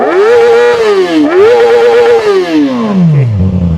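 A revving SRK450RR motorcycle with its full-system exhaust valve closed rises twice, then falls back toward idle, loud and near.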